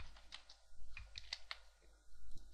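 Keystrokes on a computer keyboard while working in 3ds Max, a scattered run of soft clicks over a steady low hum, fairly quiet and close.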